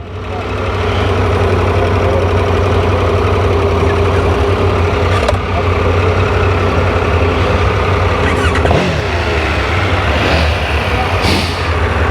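A vehicle engine idles loud and close with a steady, unbroken rumble and a few faint clicks and knocks on top.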